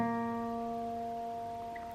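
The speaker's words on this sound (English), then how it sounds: "a new concept that you might have to learn, which is called natural harmonics, which sounds like this" Bell-like natural harmonics on an acoustic guitar ring out together, a clear chiming chord that sustains and slowly fades, played alone.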